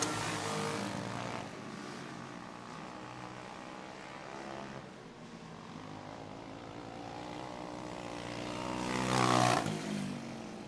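Go-kart engines race around a track, a continuous droning buzz that swells as karts pass close near the end, with no talk heard.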